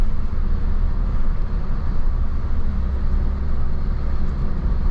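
A 2011 Renault Clio 3 RS with a 203 hp 2.0-litre engine, heard from inside while driving: a loud, steady low engine drone with road rumble and no speech.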